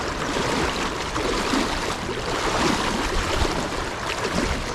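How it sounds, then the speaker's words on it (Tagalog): River water flows steadily with a loud, continuous rushing and gurgling close by, during a fishing outing, with no voices. "Ito na naman tayo sa ilog."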